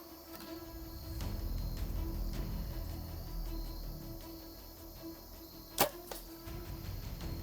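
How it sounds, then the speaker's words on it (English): An arrow from a hunting bow strikes a big 10-pointer whitetail buck broadside at about 25 yards, a single sharp crack standing out sharply against a steady background of insects and outdoor hum. "I knew right away when I saw that arrow hit and I heard that sound"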